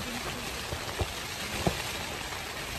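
Steady rain hisses evenly on a surface, with a few louder drips tapping nearby.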